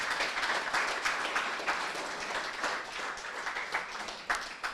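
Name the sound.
audience applauding entrepreneurs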